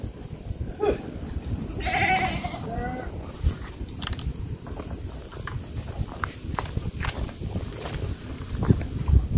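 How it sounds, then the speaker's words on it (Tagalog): Goats on a farm bleat a few times, close and fairly loud, amid rustling and hoof shuffling; one wavering bleat stands out near the start, with scattered livestock noise throughout and no clear talk. "titingnan natin yung mga kambing natin kung okay ang buhay"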